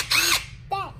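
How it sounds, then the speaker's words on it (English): A RIDGID power drill whirs in two short bursts, the first longer, the motor pitch rising and falling with each trigger pull, close and clear with a brief pause between. "Can you drill them? Drill it."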